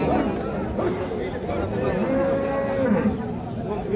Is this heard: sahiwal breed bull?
yes